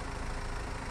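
A tractor engine idling in the Farming Simulator video game, a steady low rumble running evenly through the short stretch with no voices.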